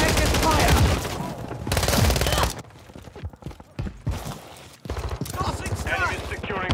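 Heavy gunfire from the Call of Duty 3 video game, dense bursts of automatic fire and rapid shots, loud and close, broken by a quieter stretch before the shooting picks up again, with in-game voices calling out.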